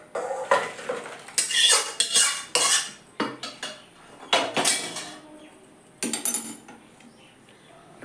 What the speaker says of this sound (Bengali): ডালটা হয়ে গেছে বন্ধুরা, নামিয়ে দিচ্ছি।